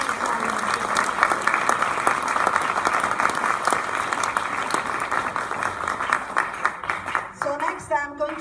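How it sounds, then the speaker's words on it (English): Audience applause after a Peking opera performance, a steady crowd of clapping hands that thins toward the end as a voice begins speaking over the last scattered claps. "another round of applause for Master Zhu Chushan"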